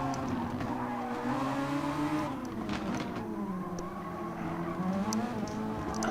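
A race car in a sim-racing sprint at the Circuit de Barcelona GP brakes very late and runs off track, the engine note dropping and rising under a steady, loud tire squeal that holds for several seconds.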